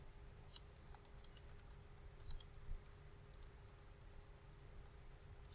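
Someone types on a computer keyboard, producing quiet, scattered key clicks in short bursts against a faint background hum in a still room.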